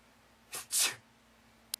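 A single close sneeze: a short sharp intake followed by a loud explosive burst, then quiet and one tiny click.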